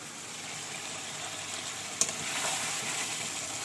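Hot water poured into pieces of meat frying in a pan releases a steady, close hiss and sizzle, with a brief sharp splash about halfway through and slightly louder bubbling afterward.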